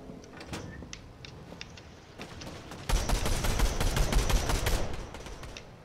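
Rapid gunfire in a Fortnite match, scattered shots at first, then a dense, loud burst of overlapping fire from about three seconds on, with no one talking.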